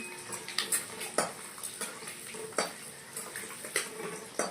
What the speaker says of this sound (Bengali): ডিমটা হালকা ভেজে নেবো